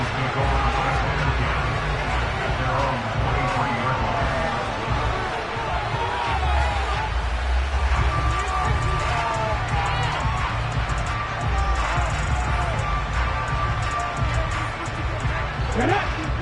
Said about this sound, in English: And this crowd has certainly liked what they've seen.